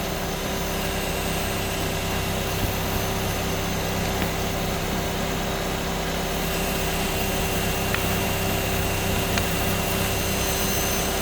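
A grinding machine's wheel runs with a constant, loud, dense whirring drone and a steady tonal hum, unchanging across the whole stretch, with no voices.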